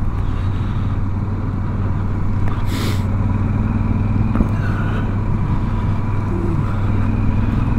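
A car rolling along a gravel road through Zuni Canyon, a steady loud engine drone mixed with the rumble and crunch of tires on loose gravel, with a brief rattling burst partway through.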